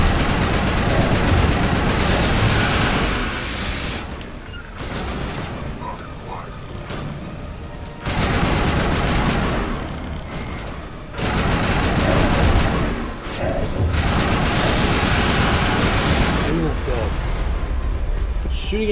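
Dense game gunfire from Mass Effect Legendary Edition, sustained bursts and volleys with engine-like rumble, nearly continuous at high loudness with brief lulls, a voice talking over parts of it.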